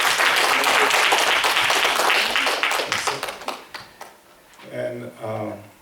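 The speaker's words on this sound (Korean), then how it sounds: "지금 내려가실 때 박수로 환영해 주십시오" A church congregation gives a round of applause to welcome a speaker returning to their seat, dense clapping for a few seconds that thins out, followed by a voice speaking near the end.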